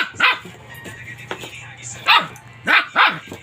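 A dog barks in sharp bursts, several loud close yips spread across a few seconds, with a voice talking over some of the barking.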